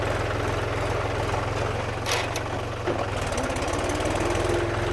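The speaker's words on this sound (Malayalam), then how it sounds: "ഒരു വൈബൻ ആട്ടോ ട്രാക്ടർ ഓടിക്കാന്ന് പറഞ്ഞാൽ" A tractor engine chugs steadily while driving across a bridge, with a close, loud, rhythmic low throb that stays continuous and shifts pace slightly near the end.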